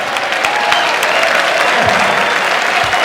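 A large crowd applauds steadily at an evening event held in honor of Frank, a dense, continuous roar of clapping at close range with a few isolated shouts and no pauses.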